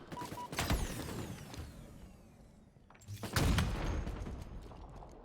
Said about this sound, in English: Nice snipe there from Whiteout BK